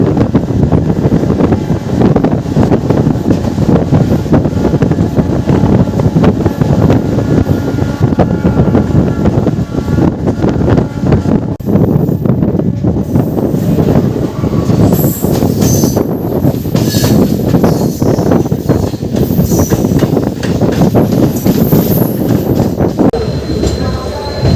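Santragachi–Jhargram MEMU train 68001 running from Kolkata towards Jhargram, a loud, continuous close rumble of rolling wheels and carriage noise with wind buffeting throughout, unbroken for the whole stretch.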